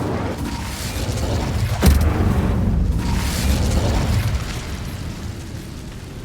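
An Incendio fire spell cast in the Hogwarts Legacy video game, a loud whooshing burst with a sharp crack followed by a roaring rumble of flame that swells and fades over a few seconds, with no talking.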